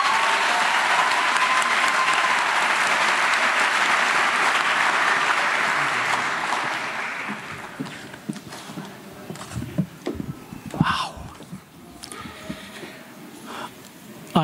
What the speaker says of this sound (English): may we all please give a round of applause while welcoming him up here